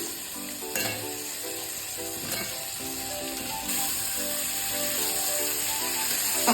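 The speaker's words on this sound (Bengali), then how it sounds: "এখন আমি ভেজে রাখা আলুটা দিয়ে দিচ্ছি" Fried potatoes tossed into sautéed spice paste for a cauliflower and shrimp curry, a bright steady sizzle with intermittent clinks and scrapes of stirring, close and continuous.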